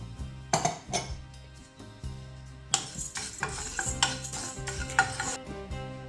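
Cumin, black pepper and cardamom dry-roast in a pan with a faint crackle, under louder metallic clinks and scrapes of a spoon stirring against the pan at close range.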